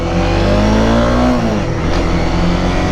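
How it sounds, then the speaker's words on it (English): Honda CBR 300R motorcycle engine running steadily and loud close to the microphone, pitch dipping mid-clip as revs drop and then holding a smooth drone. "The bike's not very loud either"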